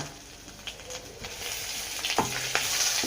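Food sautéing in a frying pan on a home stove, a steady soft sizzle with faint scraping stir clicks throughout, fairly low in level and without any talk.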